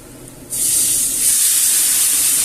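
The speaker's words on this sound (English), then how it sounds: "this is hot, some juice from the boiled potatoes, 1 ladleful" A ladleful of hot water from boiled potatoes poured into a hot pan, bursting into a loud, bright steaming hiss that holds steady to the end.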